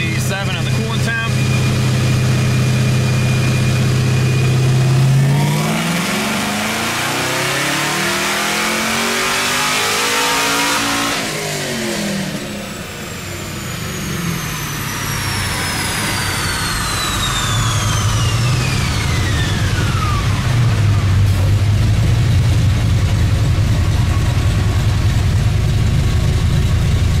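A tuned fifth-generation Camaro ZL1 with a modified cam idles loudly, then revs up hard through a sweeping pull and settles back to a lumpy idle, close and dominant throughout.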